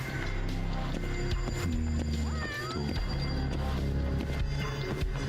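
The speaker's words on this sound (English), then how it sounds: "Alright, sounds like the cat's over here." A cat meows in the video game Judgment, with several short, clear meows over a busy, continuous background of game music and ambience.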